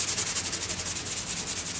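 Rhythmic scrubbing of a green scouring pad with WD-40 over grime on an old dirt bike, steady back-and-forth strokes about eight per second, close and fairly loud with no talking.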